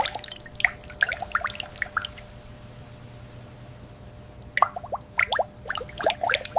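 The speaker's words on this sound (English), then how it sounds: "Rainbow drip." Rainbow slime drips and squishes during kids' slime play, giving short wet ticks and plops in two clusters separated by a quieter stretch of a few seconds.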